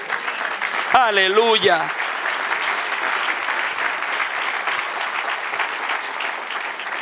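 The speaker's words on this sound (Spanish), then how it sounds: "Denle un aplauso al que reina." A church congregation applauds in praise during a sermon, a broad, steady wash of clapping that holds for several seconds, with a shouted voice rising over it near the start.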